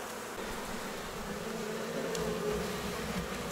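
Honey bees from a swarm being moved out of a trap into a hive fill the air with a dense, steady buzzing drone, close and continuous throughout.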